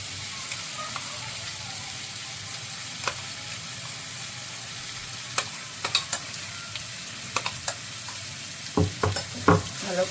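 Chicken paste frying in oil, a steady close sizzle that runs on quietly before a cluster of quick spatula scrapes and clatters near the end, no speech.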